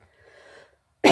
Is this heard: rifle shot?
no